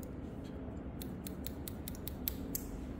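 Scissors trimming hair during a men's leaf-cut haircut, several crisp snips scattered irregularly at close range over a steady low background hum, with no talking.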